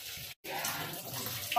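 Tap water pouring into a bowl of vegetables as they are washed, a steady splashing hiss with a brief cutout near the start, close and fairly quiet without speech.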